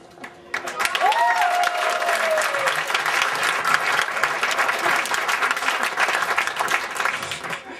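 Audience applause at a live stage show, steady and dense clapping that starts abruptly and keeps up for several seconds. A brief whistle-like tone sounds near the start.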